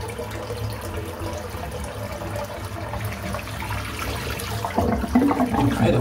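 Tap water runs into a sink during a wet shave lather session with a 27mm silvertip badger brush, a steady close splashing stream that swells louder near the end.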